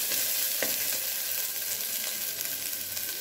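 Slit green chilies fry in a pan of oil while cooking fruit pulao, giving a steady close sizzle with a few sharp pops and crackles and no voices.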